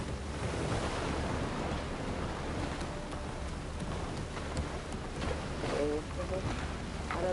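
Boat sailing across ocean waves in the video game Burning Shores, a continuous rushing wash of surf and wind with faint voice murmurs mixed in.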